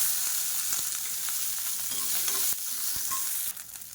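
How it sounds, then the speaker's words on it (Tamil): About fifteen small shallots and five garlic cloves sautéing in oil for puthina thokku give a loud, dense, continuous sizzle close to the pan, with faint scraping from stirring and no voices. "இப்போ வெங்காயம் மேல் தோல் எல்லாமே நல்லா வதங்கிருச்சு."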